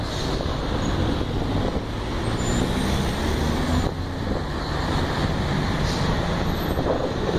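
Heavy city traffic in Vila Prudente, São Paulo, with a large truck passing amid a steady, dense roar of engines and road noise that stays loud and continuous throughout.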